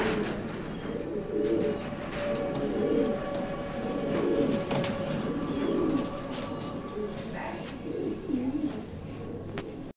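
Racing pigeons cooing steadily in a pigeon loft, a continuous low murmur of many birds close by with occasional brief flutters and clicks.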